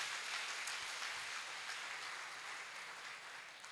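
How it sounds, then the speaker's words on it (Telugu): A church congregation applauding together in praise after a pastor's call, a steady, even wash of many hands clapping at a distance, fairly faint, with no talk over it. "దైవజనులను బట్టి అందరం ఒకసారి చప్పట్లు కొట్టి దేవుని నామాన్ని ఘనపరుద్దాం."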